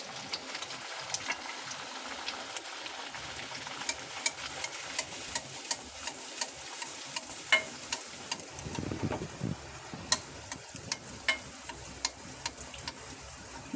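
Palm fruit luchi, a yellow fried bread, sizzles faintly in hot oil with a fine, steady crackle dotted with sharp pops and ticks, carrying on alone without a break.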